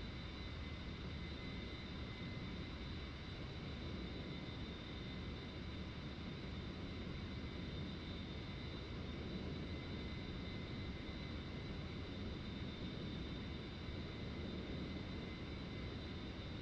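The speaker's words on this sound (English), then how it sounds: "There's Chinooks." Chinook helicopters fly in the A-10C flight simulator game, heard as a faint, steady rotor and engine drone with a constant high whine, unbroken for the whole stretch and without talk.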